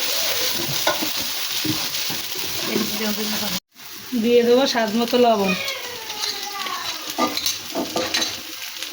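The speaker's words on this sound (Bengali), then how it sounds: "দিয়ে ভালোভাবে নেড়ে করে ভেজে" Steady sizzling and stirring of ground cumin and garam masala paste frying in a pan, continuous and close, with a voice talking over it for most of the clip.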